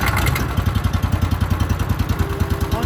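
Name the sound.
wood chipper running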